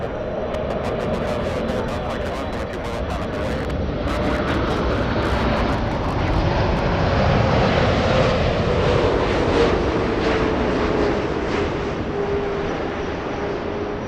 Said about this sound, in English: The iconic 7-4. Heavy on our right, runway 24 left to takeoff.